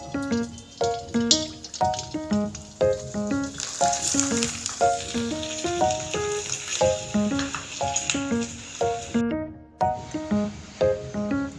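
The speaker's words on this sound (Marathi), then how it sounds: "आपण आता पोंगे तळून घेणार आहोत." Potato ponge fritters fry in hot oil, a busy, continuous sizzle and crackle heard close up, with no talking.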